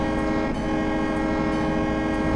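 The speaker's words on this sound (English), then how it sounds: "So we got the diesel started, guys." A Metro North FL9 diesel locomotive in Train Simulator runs with a steady, loud engine drone and a dense tonal hum, unbroken and close, with no voices.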